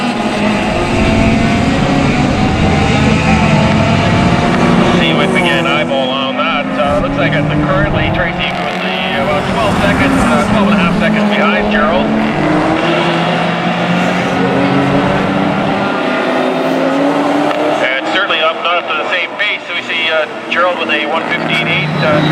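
Closed wheel race cars racing at Mission Raceway, loud engines roaring and rising in pitch as they pass through a turn, with a commentator talking over the continuous motor noise.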